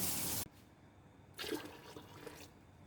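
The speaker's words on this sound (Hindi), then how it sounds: "पानी डाल देंगे इसमें हम इतना जितना इसमें डिप हो जाए।" Water splashes and pours into a cooking pot in two bursts, a loud opening gush that stops abruptly, then a second softer stream after a short pause.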